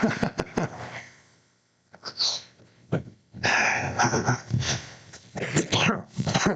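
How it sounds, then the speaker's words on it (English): Several harsh, bursty coughs come in clusters, loud and close, with short pauses between them and no talking. "Stop coughing"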